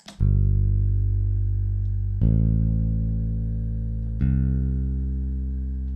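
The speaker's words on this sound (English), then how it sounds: "This is the bass." A deep, sustained lofi bass line following root notes, playing three long notes, each struck and held for about two seconds, heavy and alone.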